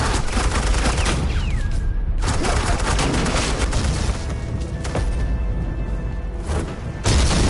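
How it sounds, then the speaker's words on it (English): Suppressing gunfire in a Batman video game, loud sustained rattling bursts of shots with booming impacts, continuous dense volleys that dip briefly before resuming near the end. "suppressing fire"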